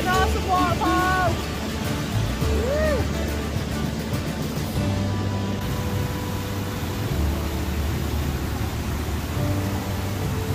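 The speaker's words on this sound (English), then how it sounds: "What an awesome waterfall!" Rushing water of Cotter Force, a Yorkshire waterfall, makes a steady broadband roar through the whole clip, with a voice talking briefly over it near the start.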